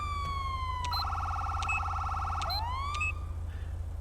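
A police car siren in the GTA V police mod LSPDFR wails in a video game, with a steady warbling tone that rises, holds and sweeps back down over a low engine hum, clear and fairly loud.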